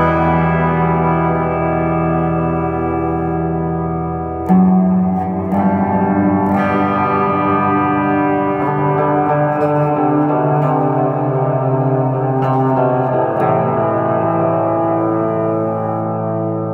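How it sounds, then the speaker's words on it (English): An electric guitar played through a Boss AS-1R reverb effects pedal rings out in sustained, heavily reverberant chords, with a harder attack midway that swells the wash of echo, all loud and without talk. "when I really dig in right there, it makes the reverb like more powerful"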